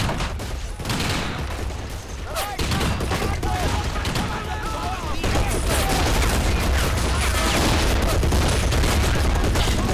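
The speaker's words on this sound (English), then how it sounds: "The MGs opened up on them just as they came into range" German machine guns in the strategy game Men of War fire continuously in a dense, rolling battle din, steady and loud throughout, with distant explosions and shouting voices mixed in.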